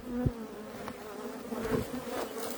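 Dense buzzing of many agitated honeybees swirling close by an opened nucleus hive, with individual insects droning loudly past at moments, no talking.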